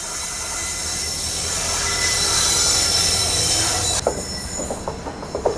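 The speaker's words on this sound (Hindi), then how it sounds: "ये है जोधपुर भोपाल एक्सप्रेस। बट ये भी अभी आके साइड में लग गई" The Jodhpur Bhopal Express pulls in on the neighbouring track with a loud, steady rumble and a high, sustained wheel squeal. The sound cuts abruptly to quieter, uneven clacks and knocks as it comes alongside.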